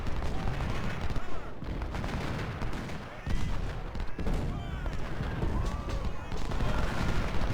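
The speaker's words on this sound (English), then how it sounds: "their guns are shooting at my infantry unit" Dense Civil War battle gunfire from the strategy game Ultimate General: Civil War, with continuous crackling musket volleys and booming cannon shots layered into a loud, unbroken din.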